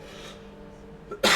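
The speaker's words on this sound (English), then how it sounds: "Too much romance making me cough." One sharp cough bursts out close and loud at the very end, after a faint throat sound and quiet room tone.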